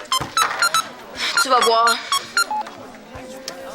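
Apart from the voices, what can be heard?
cell phone ringtone ringing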